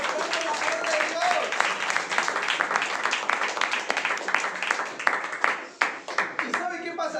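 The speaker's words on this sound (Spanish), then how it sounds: "Vamos a tener un fuerte aplauso," A church congregation gives a sustained round of applause, dense clapping that grows sharper and more distinct toward the end, with voices calling out over it.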